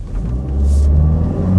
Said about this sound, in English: the 207 pound-feet of torque responds from a standstill acceleration